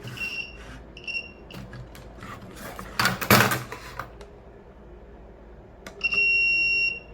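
Short, high multimeter beeps sound twice in quick succession during MOSFET testing, followed by a loud rustling handling noise, then a longer sustained beep at the end, all close-up.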